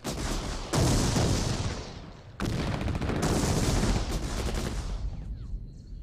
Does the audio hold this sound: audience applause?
no